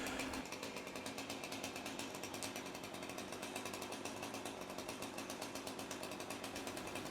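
A chainsaw cuts during a big tree removal job, a loud continuous buzzing drone with rapid pulsing chain chatter, close and unbroken throughout with no talking.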